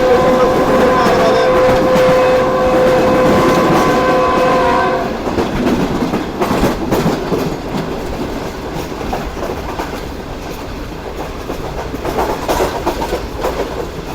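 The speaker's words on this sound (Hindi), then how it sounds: "शहर में अंदर हो चुकी है ट्रेन।" The Pak Business Express passenger train rolls into Bahawalpur, its horn sounding loudly at first before giving way to the heavy rumble and rhythmic clatter of wheels on track, close and continuous.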